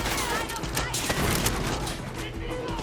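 Dense, rapid gunfire in the video game Far Cry 6, a loud, unbroken barrage of overlapping shots and crackling impacts for a few seconds with no pauses.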